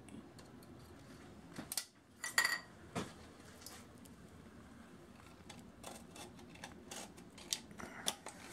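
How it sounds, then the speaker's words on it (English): Scissors pierce and cut through an aluminum Arizona green tea drink can, giving scattered crisp snips, metallic clicks and crinkles at close range in a quiet room, with no talking. "Sometimes the can's hard to pierce with the scissors, so you can make a preliminary cut with a utility knife."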